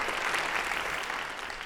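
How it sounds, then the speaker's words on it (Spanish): Brief burst of audience applause welcoming guests to a Spanish-language talk show, steady and fairly loud before tapering slightly at the end. "Démosle también un aplauso y la bienvenida a nuestros invitados."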